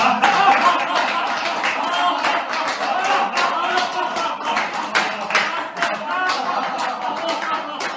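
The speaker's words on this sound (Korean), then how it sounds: "우리 함께 웃음 박수로 시작해 보겠습니다" A group claps together to open a healing stretching class, a dense, steady patter of many hands at even loudness throughout, with voices mixed in underneath.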